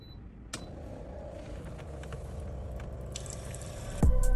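Lake water is poured into a Simpure water filter, with a soft, steady, wet gurgle building gradually and a sharp clunk at the end.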